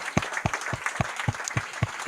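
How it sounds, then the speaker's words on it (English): An audience at a marketing summit claps after a talk, a brief burst of close, rhythmic hand claps at a fairly even pace. "Big applause."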